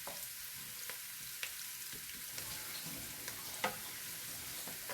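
Carrots fry in hot vegetable oil left over from frying chicken for chicken fried rice, giving a steady bright sizzle with occasional soft stirring clicks, close and even throughout with no voices.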